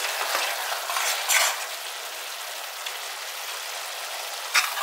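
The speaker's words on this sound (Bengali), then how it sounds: "গ্যাসটাকে কিন্তু একদম হাই ফ্লেমে দিয়ে ভালো করে কষিয়ে নিচ্ছি।" Food sizzles steadily in a pan on a high gas flame while being stirred, with a bright hiss that swells briefly as it is moved around, close and alone with no talking.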